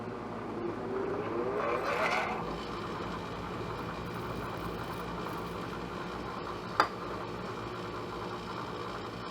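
A slow-speed bench grinder fitted with a 600-grit wheel is switched on for the first time: its motor whirs up to speed in a rising tone, then settles into a steady hum with one sharp tick near the end.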